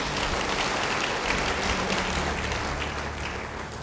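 A church congregation claps during an Indonesian sermon, a loud, continuous wash of applause that stays strong and then eases slightly toward the end.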